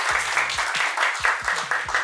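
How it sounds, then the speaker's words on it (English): Audience applause for Sarah at the close of a youth conversation screening at IIUM, a steady patter of hands with low voices or background tones running underneath for about two seconds. "Round of applause to Sarah."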